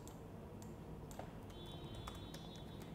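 Keys tapped on a computer keyboard while entering text into a Microsoft Word 2016 document, light scattered clicks over a steady background hum, faint and close.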